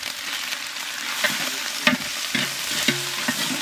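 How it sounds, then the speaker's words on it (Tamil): Ginger garlic paste with onion sautéing in a pan for a village-style bone marrow dosa, a steady close sizzle broken by several scraping stirs of the spatula, no voices. "இஞ்சி பூண்டை நல்லா வதக்கியாச்சு"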